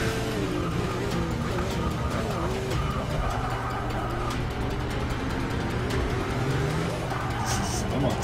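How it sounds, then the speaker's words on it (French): Hard braking in Forza Motorsport 6, a steady loud engine and tire roar that slows almost to a stop, with a person talking over it throughout. "C'est vraiment un très gros freinage là, tu passes limite à l'arrêt."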